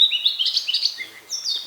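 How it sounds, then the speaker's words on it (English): Birds call at a tranquil holiday resort, high clear chirps and whistled notes in quick overlapping phrases, fairly close and alone with no talk. "So the one constant sound that you will hear is the call of the birds."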